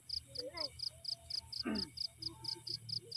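Crickets chirping at night during a cricket hunt in Sragen: a steady, evenly pulsed high trill, fairly faint, with scattered nearby voices talking quietly and brief rustles.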